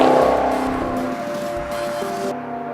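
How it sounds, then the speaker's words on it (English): A 2013 Maserati GranTurismo Sport V8 revs with a burbling, rising and falling engine tone heard close and clear, with no talking. "It has this sort of typical V8 burble, but it really cleans up, it smooths out as you rev it higher."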